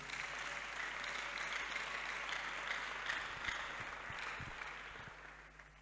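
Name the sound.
congregation applauding in church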